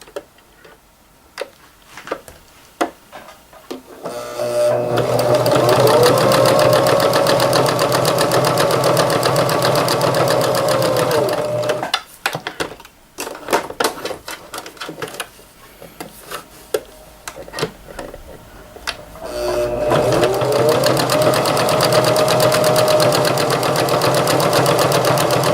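Sewing machine top stitching an apron waist tie, two sustained loud runs of fast whirring with a rising and falling motor pitch, broken by a stretch of clicks and handling.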